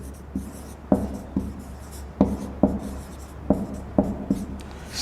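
Writing names on a board during a classroom lesson, a series of sharp taps and short scratchy strokes in irregular bursts, close and clear with a low background hum and no speech.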